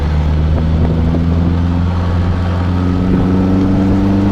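A 1958 Morgan Plus 4 drives along with a steady, loud engine drone and low rumbling hum, its pitch holding fairly even with slight rises, with no voices heard.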